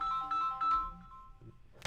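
A mobile phone ringtone plays a melodic electronic pattern of repeating tones, fairly close and clear, then fades before a sudden burst of noise at the end.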